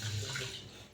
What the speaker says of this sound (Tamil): இதே மாதிரி அளவு திருப்பி தண்ணி ஊற்றுரு.